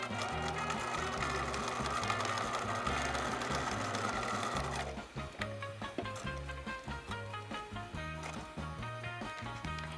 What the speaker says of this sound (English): I'm going to lower the presser foot and sew on the line that I drew